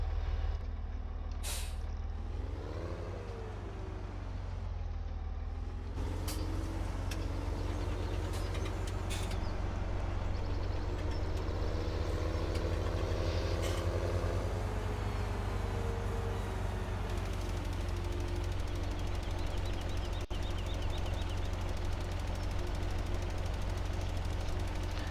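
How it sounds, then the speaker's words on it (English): A tractor with a front-mounted fertilizer spreader works in Farming Simulator 17, its engine droning loud and constant with a brief hiss of air release near the start and mechanical clatter throughout; nobody talks. "Maybe a bit unconventional putting the fertilized spreader on the front of the tractor, but it works."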